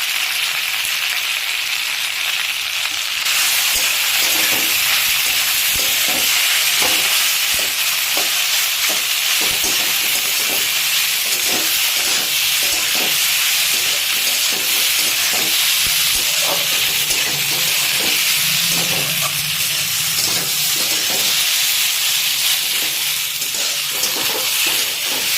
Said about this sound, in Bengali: এটার সাথে ভাজা তো বেশ কিছুক্ষণ হলো